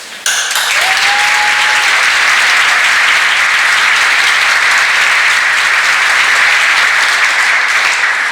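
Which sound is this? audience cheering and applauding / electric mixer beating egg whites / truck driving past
audience cheering and applauding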